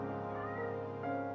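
A domestic cat meows once, close and fairly soft, a short rising-and-falling call heard alone against a quiet indoor background.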